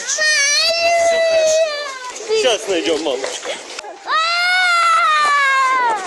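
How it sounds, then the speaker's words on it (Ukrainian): Young children crying and wailing in distress, loud and close, with an adult voice speaking soothingly over the sobbing. "А ще важче слухати плач цих малюків"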